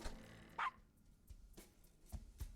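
A dog in the Gabriel Knight: Sins of the Fathers adventure game gives a single sharp bark, fairly close and loud, followed by quieter scattered sounds.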